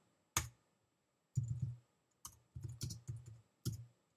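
Computer keyboard keys tapped while entering commands, with one sharp keystroke and then short clusters of close, crisp clicks separated by brief silent pauses, no talk.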